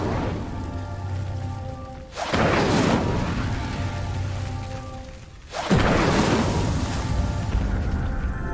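Incendio fire spell lighting pyres in Hogwarts Legacy, two loud sudden whooshing bursts a few seconds apart, each flaring up and then settling into a steady roar over background game music.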